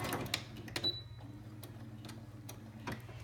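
Domestic sewing machine back stitching a washable cloth sanitary pad, a faint steady low whirr with light ticking and clicks running throughout, quiet and close.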